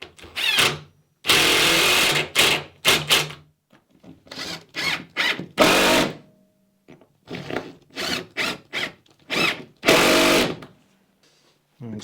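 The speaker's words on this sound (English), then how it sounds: "Drill." A power drill drives fasteners during an epoxy boat repair, firing in short whirring bursts and a few longer runs, close and loud, separated by brief quiet gaps.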